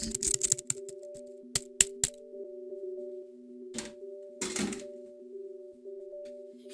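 Keys pressed on a computer keyboard hooked up to a Wii, scattered bursts of clicky taps with long pauses, over a steady electronic hum.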